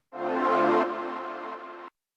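Melodic house pad fill from a distorted synth preset with chorus, delay and EQ plays once as a thick sustained chord, strongest early and then settling lower before ending abruptly after about two seconds, alone and fairly close.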